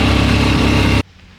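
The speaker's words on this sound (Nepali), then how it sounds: "1 गियर 2 गियर 1 गियर नै त्यस्तोमा मात्रै कुदाउनु पर्ने हुन्छ अन्त बाइकले तान्दैन" Motorbike engine labouring in first or second gear up a steep hill road near Suryachaur Danda, loud and close with a steady roar, then cutting off abruptly after about a second.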